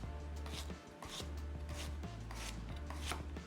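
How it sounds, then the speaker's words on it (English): A knife chops through zucchini on a cutting board, a steady run of close, fairly quiet strikes heard on their own with no talking. "I have my zucchini right here. I'm going to chop this up."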